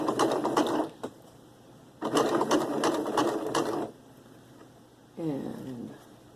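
Sewing machine stitching coiled rope into a rope bowl, two loud bursts of rapid mechanical stitching separated by a pause, followed by a short stretch of nearby talking.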